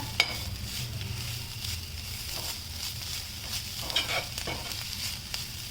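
Sambar puli spices being dry-roasted in a pan, stirred continuously with a spatula: crackly sizzling and scraping strokes, close and fairly loud, with a few sharper clinks of the utensil against the pan.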